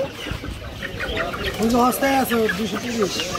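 Chickens at a market poultry shop cluck in a series of short rising calls through the middle and end, fairly close, over a busy shop background with some voices.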